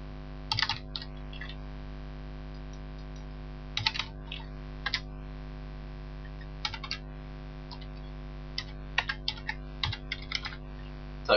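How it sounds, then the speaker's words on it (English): Typing on a computer keyboard: scattered, irregular clusters of crisp key clicks, close and moderately loud, heard over a constant low electrical hum. "Type your name."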